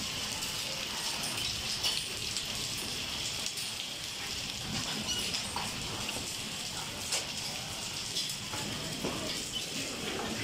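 Hailstones strike a room cooler and other surfaces in a steady, dense patter of small hard ticks, continuous and fairly even throughout, with no talking.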